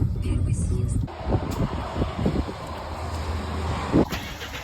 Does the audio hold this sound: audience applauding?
no